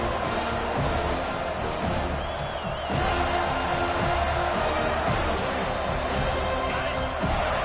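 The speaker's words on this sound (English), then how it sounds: "Here comes this home crowd as the defense tries to get off the field on third down." Home crowd noise in a college football video game, a Florida State Seminoles setting, with a broad, steady roar of cheering that holds loud for the whole stretch of the third-down play, punctuated by faint thumps.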